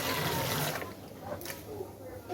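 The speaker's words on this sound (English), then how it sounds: "So I'm going to pour in some of our water." Water pouring into a Nitrosol soap mixture, a short, broad splashing gush that is close and fairly loud, briefly dipping before picking up again.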